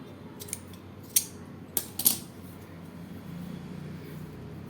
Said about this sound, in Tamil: இப்போ இந்த பேக் சைடும் அந்த தையல் இருக்கிற இடத்துல நம்ம கட் பண்ணி எடுத்துக்கலாம்.